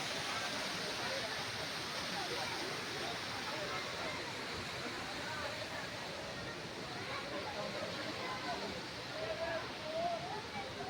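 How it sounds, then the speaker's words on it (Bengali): Steady, full roar of a waterfall at a rock garden in Darjeeling, heard nearby as continuous broadband rushing water with no break for the whole stretch. "এটা আবার এদিক দিয়ে ঝর্ণাটা ক্যাপচার করেছি।"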